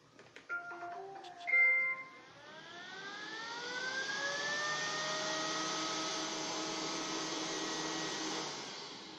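A Neato Botvac Connected robot vacuum starts up in turbo mode after a few electronic chirps, its motor whine rising in pitch and settling into a loud steady hum close by.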